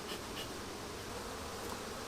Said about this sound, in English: Smoke the bees down.